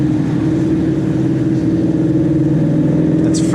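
A V6 muscle car engine in first gear gives a steady, loud, close droning growl from inside the cabin, rising gently as it accelerates.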